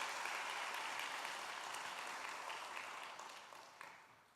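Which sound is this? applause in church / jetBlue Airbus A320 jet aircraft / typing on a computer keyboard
applause in church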